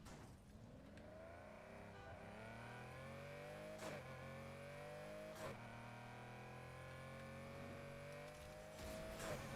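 Turbocharged car engine in Need for Speed Heat revving up through the gears, with rising whine-like tones broken by quick shift blips, loud and continuous with no voices over it.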